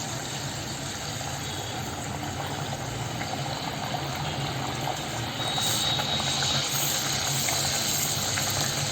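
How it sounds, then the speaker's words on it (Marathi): Malvani chicken vadas frying in hot oil, a steady loud sizzle and bubbling hiss that carries on evenly and swells slightly near the end, with no talking over it. "आता आपण ना वडे तळून घेऊया."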